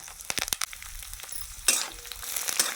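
Mustard seeds, chana dal and red chillies frying in a little oil for a tempering, with crackling pops and a steady sizzle close up, a sharp burst of hissing midway as ingredients hit the pan.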